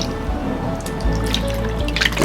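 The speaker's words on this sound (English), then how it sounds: "Let's go ahead and let's pour it in the little dish right here." Wet Goldbay pay dirt is poured into a small panning dish, giving close watery drips, trickles and sloshing with a few sharper splashes and gritty shifts toward the end.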